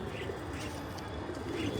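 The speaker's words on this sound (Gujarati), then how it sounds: "દાળિયા ખાઈને આમ જો કેવા આમ ઘૂઘું કરતા ખાય છે, આમ કિલોલ કરતા" Pigeons cooing softly at night while feeding on roasted chickpeas, low repeated coos over a steady background hum.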